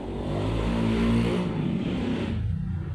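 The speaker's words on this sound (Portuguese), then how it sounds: "Passou uma moto aí." A motorcycle passes close by, its engine loud and steady with a rising-then-fading drone over about two seconds before dropping away.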